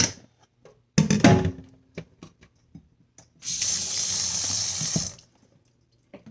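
Water poured from a tap into a bowl of cleaned potatoes in a home kitchen: a short splash and clatter, then a steady rushing pour lasting under two seconds before cutting off, close and fairly loud with no talk.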